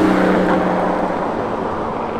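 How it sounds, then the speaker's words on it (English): An Aston Martin drives past at a Sunday car gathering in the Philippines, its engine a steady, fairly loud rumble close by that fades slightly over the few seconds. "And look, here goes the Aston Martin."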